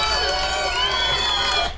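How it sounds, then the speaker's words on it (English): Stock effect of a small group of about ten young children shouting and cheering together, loud and continuous for under two seconds, an excited burst of many high voices with no pauses. "Small group of 10 young kids shouting and cheering."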